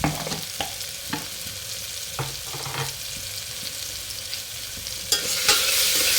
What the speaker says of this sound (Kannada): ಇದಿಷ್ಟು ಸ್ವಲ್ಪ ಹಾಕಿ ಸ್ವಲ್ಪ ಚೆನ್ನಾಗಿ ಫ್ರೈ ಮಾಡ್ಕೊಳ್ಳೋಣ